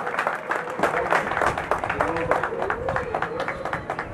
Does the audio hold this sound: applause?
yes